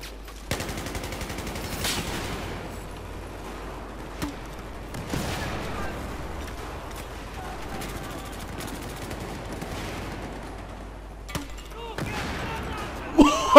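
Gunfire in the video game Battlefield 4 on the Operation Locker map, bursts of rapid automatic shots and sharp single cracks spread through a noisy battle, with a player's voice talking over it.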